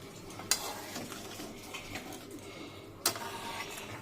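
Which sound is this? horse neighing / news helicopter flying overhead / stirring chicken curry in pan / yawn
stirring chicken curry in pan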